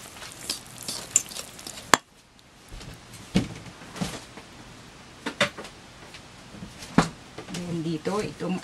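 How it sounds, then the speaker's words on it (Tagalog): Coconut milk mixture being stirred in a pot for corn kalamay, with intermittent scraping and clinking strikes against the pot and a soft bubbling hiss, heard close up while a person talks. "haluin natin mabuti"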